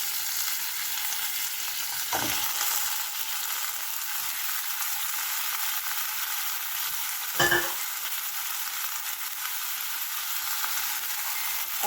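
Eggplant sizzling and frying in a hot pan, a steady broad hiss with two sharp clattering stirs or drops partway through, no voices.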